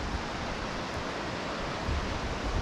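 A cool mountain stream near the Blue Eye spring in Theth, in the Albanian Alps, flows in a steady, close rushing wash with no voices.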